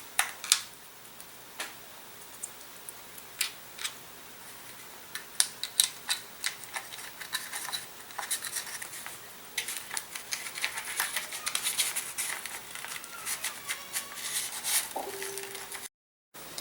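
RC servos set and bolted into an Evo Fire model fuselage give a close run of small irregular plastic ticks, clicks and taps over a quiet workbench background, with no talking.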